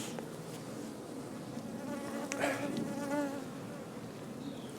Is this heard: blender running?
no